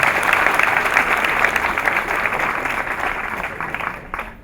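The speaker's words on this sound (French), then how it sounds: "On applaudit." An audience applauds at a Belgian-Ivorian NGO gathering, a dense sustained clapping from many hands that stays loud and then tapers slightly near the end.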